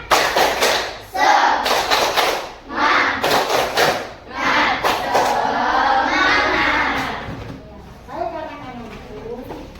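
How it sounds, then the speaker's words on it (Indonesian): A school class does the tepuk semangat clapping chant, with sharp rhythmic hand claps in quick groups mixed with children shouting the chant together, close and loud, then trailing into excited voices. "Kita tepuk semangat dulu. Tepuk semangat."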